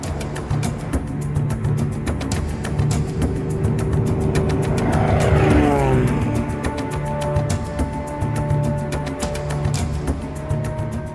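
A light aircraft flies over farmland near the Limpopo River in Zimbabwe, its engine a steady loud drone with a rhythmic propeller flutter that holds throughout, its pitch bending slightly midway.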